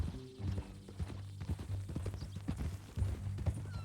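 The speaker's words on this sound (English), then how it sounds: "That new horse?" Hooves of a horse clop in a steady rhythm in the video game Red Dead Redemption 2, close and fairly clear, with faint game ambience and brief vocal sounds around them.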